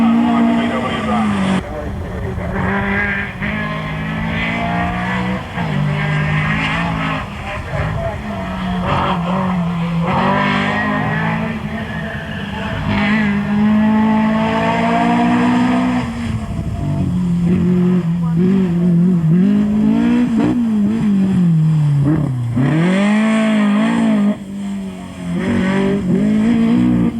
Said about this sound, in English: Look at that wheel spin as that car gets underway.